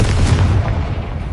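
A Confringo spell blast in Hogwarts Legacy, a dense, heavy boom with a rumbling low end that holds loud through the whole moment and fades only slightly.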